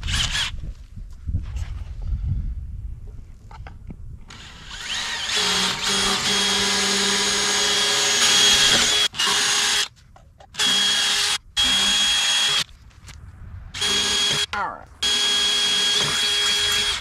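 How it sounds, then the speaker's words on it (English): A power drill drilling holes for a trailer spare tire carrier whirs in repeated bursts, spinning up, stopping briefly and starting again, close and loud after a few quieter seconds of handling noise. "drill these holes that we marked out here"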